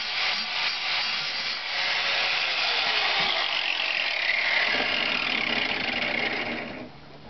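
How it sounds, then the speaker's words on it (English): Grinder fitted with a metal grinding wheel working the edge of a cut hole, a sustained harsh whine with scraping texture that holds for several seconds before easing off at the end. "I'm going to put a regular metal grinding wheel on here. put my earring protection back on, and we'll finish grinding this back to the edge of the hole"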